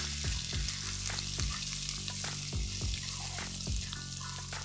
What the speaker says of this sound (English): Once the cumin starts cracking, now I'm going to add ginger garlic. Cook it for a few minutes.